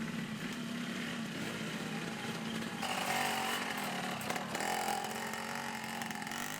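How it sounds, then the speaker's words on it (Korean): A homemade logging motorcycle, workshop-built with long wooden poles fitted front and back, runs in an Indonesian jungle, its engine giving a loud, steady, raspy buzz that drones on without a break. "소리의 정체는 오토바이입니다."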